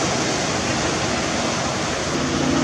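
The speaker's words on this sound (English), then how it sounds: "So please understand, it is very windy." Strong wind buffets the microphone in a constant loud rush, blended with the roar of nearby surf on a Maui shore.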